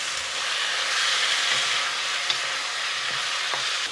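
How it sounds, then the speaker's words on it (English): Egg fried rice with green peas sizzles steadily in a hot pan, a loud, continuous crackling hiss with a few brief pops and no talking. "Now it's sizzling."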